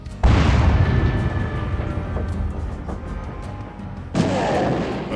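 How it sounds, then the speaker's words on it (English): Bombard artillery fires in Epic 40K Final Liberation, with a heavy booming report that rumbles on with crackling debris, then a second loud blast about four seconds later. "So now let's get the bombards on the go, and yeah, we'll take some of these orcs"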